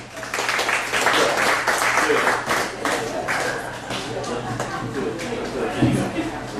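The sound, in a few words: audience applause for volunteer at hypnosis show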